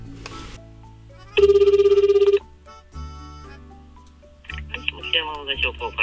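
Telephone ringing on a call to a campsite: tonal ring bursts and ringback tones with pauses between them, clear and close, with no one talking over them.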